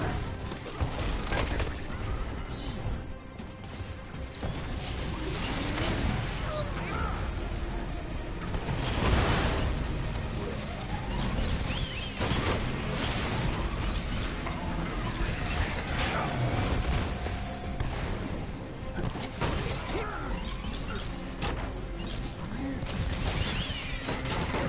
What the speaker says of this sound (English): it does like impact damage and then explosion.